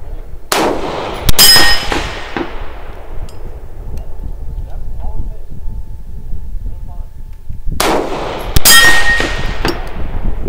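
Rifle shots at a steel target 400 yards away come as two sharp, loud cracks, each trailed a moment later by a ringing clang and a slow fading echo, with quiet outdoor background in between.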